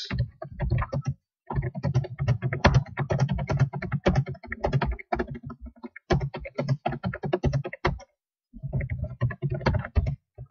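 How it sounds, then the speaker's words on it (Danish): Rapid typing on a computer keyboard, close and steady bursts of key clicks broken by short pauses. "jeg vil lige hurtigt skrive en kort tekst"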